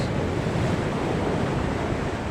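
Large ocean waves surge and roll continuously on open sea from a fishing boat, a loud, dense wash of water mixed with gusting wind noise.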